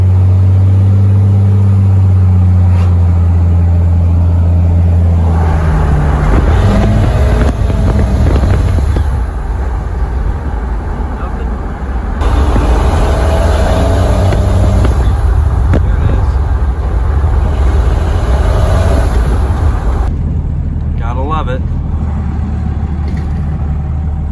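A 12-valve Cummins diesel pickup truck drives on an open road, a loud constant engine drone and road rumble with shifting pitch as it accelerates, and a few voices are faintly audible underneath.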